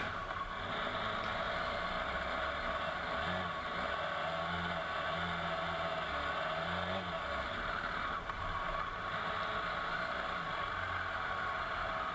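A BMW F800GS motorcycle climbs a sand hill in second gear, its engine a steady, loud, sustained drone with slight pitch swells under heavy wind rush, no voices.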